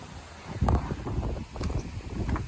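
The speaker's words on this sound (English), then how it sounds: "I apologize for the wind." Gusty outdoor wind buffets the microphone beside a 1931 Chevy rat rod build, a steady low rumble that swells into stronger gusts and stays loud throughout, with no voice.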